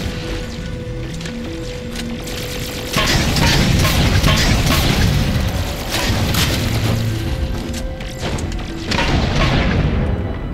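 Halo 4 campaign combat on the Requiem level brings heavy booming explosions and bursts of rapid gunfire, loud and dense after a quieter opening with a steady tone, continuing in overlapping waves without speech.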